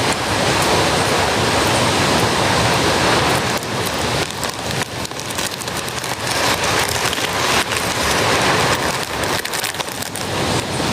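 Steady rain falls with gusting wind, a dense, continuous hiss and patter filling the whole stretch with no letup, loud and close.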